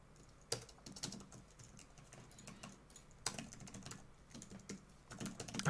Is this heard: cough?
no